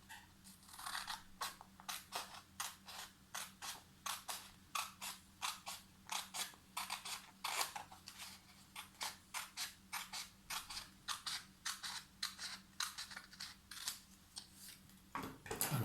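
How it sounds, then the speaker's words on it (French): Scissors snip through a strip of paper in a quick, even run of dozens of crisp, close cuts, with no voices. "on va prendre le ciseau, on va le découper et ça nous fera un carré."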